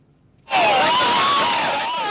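Crowd of mourners in the streets of Nairobi breaks into loud, sustained screaming and wailing, a sudden eruption of many voices that stays intense throughout.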